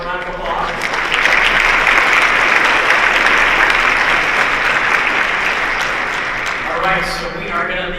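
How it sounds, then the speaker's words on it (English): Sustained audience applause fills a forum meeting hall, a dense wash of clapping that swells and holds steadily for several seconds before tapering slightly near the end, with a few voices faintly mixed in. "Let's give one more round of applause."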